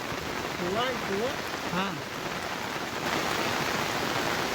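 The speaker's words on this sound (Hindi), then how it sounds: "लगातार बारिश हो रही" Heavy monsoon rain pours down steadily over flooded ground near a submerged girls' school, a dense, unbroken hiss throughout, with a voice speaking briefly early on.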